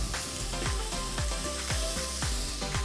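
Covered sliders with cheese and onions sizzle and steam on a hot cooking surface, a dense continuous crackle and hiss with small repeated pops, close and loud, with no other sounds.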